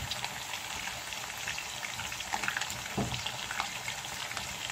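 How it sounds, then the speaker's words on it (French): Marinated rabbit pieces browning in shea butter, a soft continuous frying crackle with faint bubbling, fairly quiet and even across the short stretch, with no voices. "Donc je vais le faire revenir un tout petit peu, pas beaucoup"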